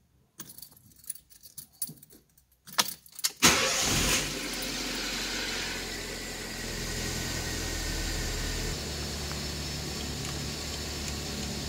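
Keys jingle in the ignition of a Fiat Palio before its engine cranks and catches, then settles into a steady, close idle with no voices.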